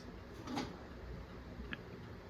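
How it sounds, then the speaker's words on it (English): A cat nudges a small ash door, giving a faint scrape and rattle followed moments later by a single soft click, both quiet and close against a low, steady room hush with no talking. "See, he just moved the ash door."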